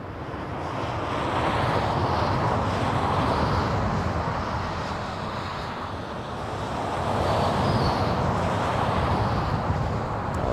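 Air Force One, the presidential aircraft, landing on runway 25 left at LAX airport, a broad distant jet roar swelling and fading twice, with wind rumble over it and no talk.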